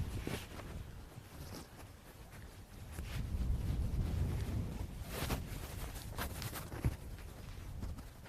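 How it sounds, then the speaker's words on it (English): Strong gusting wind buffets the microphone on an open golf course, a steady rumbling roar that swells and fades, with a few faint clicks and footsteps underneath. "Final 6 holes with this wind."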